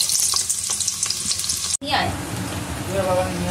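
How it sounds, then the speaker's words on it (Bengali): Chopped onion dropped into hot oil with whole garam masala and bay leaf, crackling sizzle that surges loudly after a brief cut, with stirring scrapes, close by. "আর গরম মশলা থেকে গন্ধ বেরিয়ে এলে দিয়ে দিচ্ছি একটা কুচনো পেঁয়াজ।"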